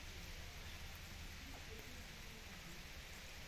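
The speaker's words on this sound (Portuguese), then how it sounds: "Chovendo pra caramba." Heavy rain falls as a steady, dense hiss with no breaks, soft and continuous throughout.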